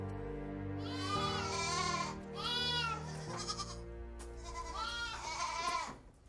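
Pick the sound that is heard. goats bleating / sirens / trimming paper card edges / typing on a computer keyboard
goats bleating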